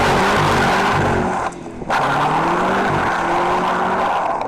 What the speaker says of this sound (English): Once into second, the V pulls all the way to redline without missing a beat.